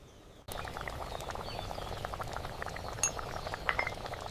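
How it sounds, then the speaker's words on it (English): Baingan masala simmers in a miniature pot, a steady close bubbling and popping crackle with small clinks running continuously after a brief quiet start. "This needs to simmer just a little bit longer."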